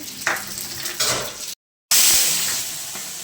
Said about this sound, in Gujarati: તો હવે હું મૂકું છું સૂકા વટાણાનો વઘાર